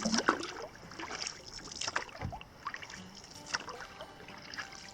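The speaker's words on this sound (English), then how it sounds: "There's still a lot of paddling to do before I get to the landing." Canoe paddle strokes dip and splash on lake water in the Boundary Waters, a few near irregular wet swishes and drips over soft wind noise.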